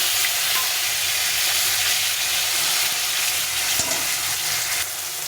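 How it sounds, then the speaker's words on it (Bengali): Thin-sliced tomato frying in hot oil with spices, a continuous loud sizzle broken by a few scraping stirs near the end. "এখানে টমেটো অনেকটাই ভাজা হয়ে গেছে"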